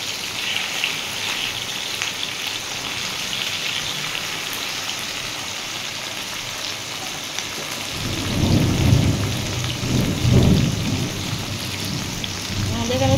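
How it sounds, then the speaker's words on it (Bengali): Heavy rain pours steadily throughout, with deep rolls of thunder swelling up near the end. The storm falls outside a home kitchen while fish is being fried. "মেঘ ডাকছে, প্রচুর বৃষ্টি হচ্ছে।"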